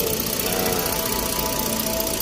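A 2012 Ford Taurus engine running just after a water pump replacement, a steady, close mechanical idle with a continuous even hum and rattle.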